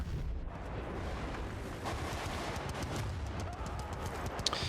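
Continuous gunfire, booming explosions and artillery-like blasts fill an Apache helicopter battle in a military video game at Port Valdez, a dense, steady roar of combat with faint sharp cracks near the end.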